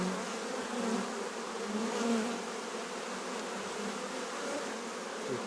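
Dense, steady hum of many honeybees buzzing around an open production hive, heard close and continuous without a break.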